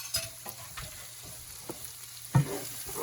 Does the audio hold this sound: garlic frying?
yes